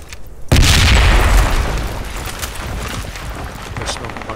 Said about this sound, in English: Nade on stairs.